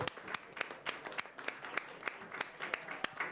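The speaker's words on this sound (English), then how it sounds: "A round of applause for our final panel of the morning." Audience applause at a tech conference panel on AI development tools, made of many sharp, fairly quiet claps in a steady patter from a crowd at some distance.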